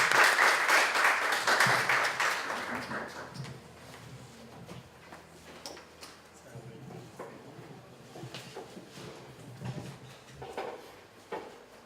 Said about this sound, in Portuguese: nosso aplauso, por favor, Jairo Faria.